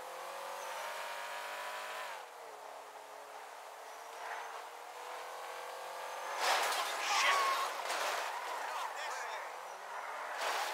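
A sports car in Grand Theft Auto V drives along steadily, its engine droning and shifting pitch, then surges louder with revving and a brief tire screech before settling back to a steady run, continuous and close.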